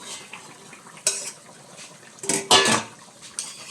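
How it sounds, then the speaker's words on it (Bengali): Katla fish curry being stirred in a pot on low heat, with a quiet simmer broken by a few sharp metallic scrapes and clatters of the spoon against the pot, the loudest near the end. "একটু নাড়াচাড়া করে দেখি হয়েছে কি না"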